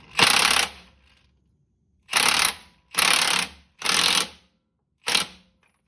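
Socket ratchet tightening a bolt on a Jeep Wrangler driveshaft during an Adams 1350 driveshaft install, with a 1 1/8-inch socket: five bursts of fast, loud ratcheting clicks, each about half a second to a second long, separated by short pauses, close by, with no talking.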